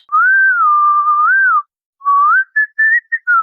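A single person whistles a sustained, wavering tune, then a few short separate notes, clear and close with no other sound.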